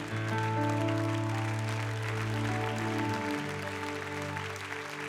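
Church audience clapping their hands during a message, a dense wash of applause running under sustained organ-like music chords, moderately loud and continuous throughout.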